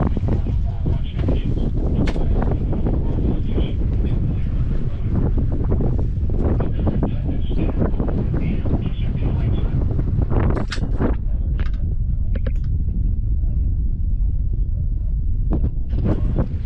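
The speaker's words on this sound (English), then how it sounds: "The wind is nice and steady coming out of the north." Steady north wind buffets the microphone in a continuous low roar, with water sloshing and faint creaks from a small sailboat crossing a river.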